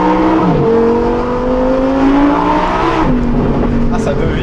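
The V10 of a Lamborghini Huracan Tecnica revs high from inside the cabin, pitch sweeping up through a gear change and climbing again, loud and close while people talk.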